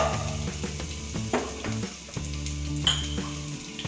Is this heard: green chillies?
yes